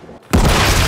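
A flashbang grenade goes off in Modern Warfare III: a sudden loud blast after a brief quiet gap, followed by a sustained harsh ringing roar.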